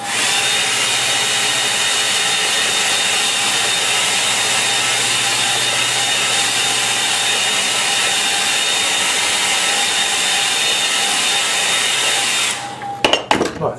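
Hair dryer drying acrylic paint, a loud steady whooshing drone with a faint tonal whine that runs unbroken for about twelve seconds, then cuts off, leaving a few clunks.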